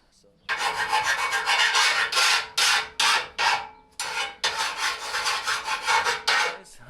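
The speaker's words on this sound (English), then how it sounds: "Just finished off filing the edges of the bumper support so it doesn't cut anyone." A hand file rasps along the steel edges of a Jeep JKU stubby bumper support in a run of loud, rhythmic strokes that break into short separate passes, heard alone at close range.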